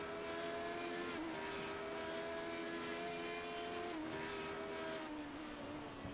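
Radical SR8 race car engine at Knockhill, a steady loud drone with rising and dipping harmonics as it shifts through gears on the circuit, close and continuous with no talk.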